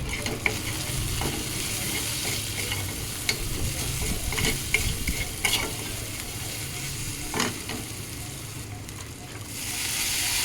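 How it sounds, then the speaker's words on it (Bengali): Masala of tomato, salt, Kashmiri chilli powder and turmeric frying in a pan for a capsicum fish curry, giving a steady broadband sizzle with scattered scraping stir strokes throughout, close and continuous with no talk. "মশলাটা ভালোভাবে কষিয়ে নেব"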